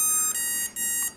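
Three quick high-pitched electronic beeps in a row from an Emax BLHeli 20A electronic speed controller, evenly spaced and fairly loud.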